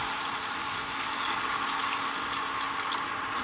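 Hot water pours steadily into a simmering rohu fish curry with sola kochu, making a continuous rushing, splashing stream with no pauses over a few seconds.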